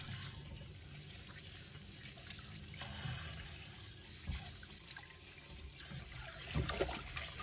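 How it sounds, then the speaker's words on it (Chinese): Running tap water rinses fresh cucumbers in a kitchen sink, a steady broadband splash and trickle that holds even throughout, close to the microphone with a few louder splatters near the end. "然后再用流水冲洗几遍，把黄瓜彻底的洗干净"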